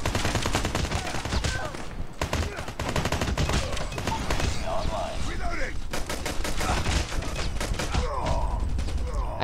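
Rapid gunfire rattles through a Call of Duty Mobile match, dense bursts of automatic shots and single cracks packed close together with game effects, under a player's intermittent talk.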